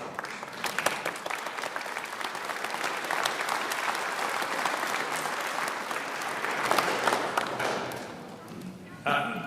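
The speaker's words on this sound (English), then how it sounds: "Nice round of applause for all of our sophomores." A crowd applauding steadily for several seconds at a high school band spring concert, full and even, before the clapping thins out near the end.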